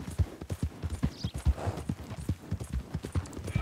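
Horse hooves clip-clop steadily in Red Dead Redemption 2 gameplay, a quick rhythmic beat of close, fairly loud thuds continuing throughout with game ambience behind.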